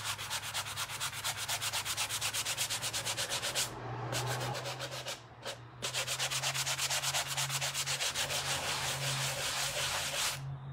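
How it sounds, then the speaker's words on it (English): Steady, close, back-and-forth rubbing over painted leaves on a wooden tray to distress them, a dense scratchy friction that continues with only brief pauses. "So I'm just going to lightly rub over them and distress them a bit."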